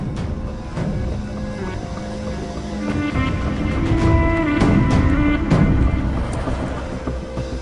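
Motorbike engine revving and pulling away in a Malayalam movie scene, a loud rough rumble that swells and holds with some clatter over it, no voices.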